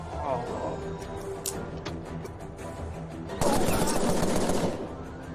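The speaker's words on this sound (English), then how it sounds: "The guns are so inaccurate." Guns fire in the video game Empire of Sin: scattered shots ring out, then a dense burst of rapid automatic fire crackles loudly for about a second before tapering off.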